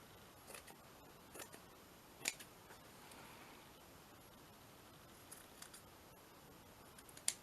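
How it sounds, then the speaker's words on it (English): Scissors snip paper while a paper bag journal cover is being made: a few quiet, crisp cuts spread across a faint background hiss, with a sharper snip near the end. "I'm just going to snip down here."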